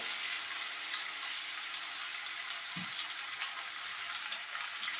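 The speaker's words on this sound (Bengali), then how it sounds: "আলুটা কিছুটা লাল লাল করে ফ্রাই হোক" Potato pieces fry in hot oil for a Bengali shol fish curry, giving a steady, even sizzle and crackle that holds at one level throughout, with no voices.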